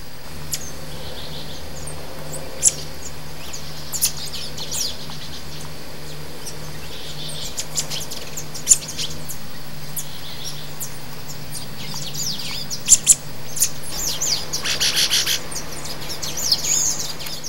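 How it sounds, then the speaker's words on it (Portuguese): Small birds of Brazilian forest edges and woodlands call with quick, thin chirps scattered through a steady buzz of insects, the calls moderately distant and growing busier toward the end. "Seu canto consiste em chilreados rápidos e finos, porém variam a cada espécie."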